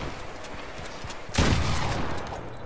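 A sudden loud burst of rapid gunfire in a video game follows quieter scattered shots, sustained for about a second before fading into a steady background rumble.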